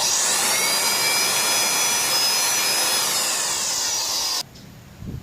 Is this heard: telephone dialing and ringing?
no